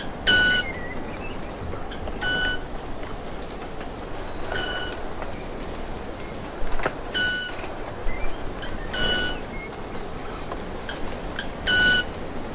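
A tiny male bird, much smaller than a sparrow, courts a female with sounds not made in its throat: sharp, bright, buzzy beeps and clicks in irregular bursts over a faint, hissing background.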